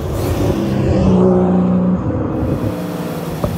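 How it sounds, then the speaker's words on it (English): Air-cooled 4-litre twin-turbo Porsche 935-style carbon prototype engine revving, a loud, steady near rumble with a rising tone in the middle and a brief sharp pop near the end. "The engine is just insane. 4 liters, air-cooled, twin charge-cooled, twin turbo."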